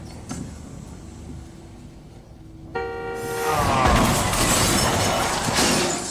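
Glass crashes and shatters loudly after a brief tonal squeal, followed by a sustained noisy clatter of breaking debris, with engine rumble underneath.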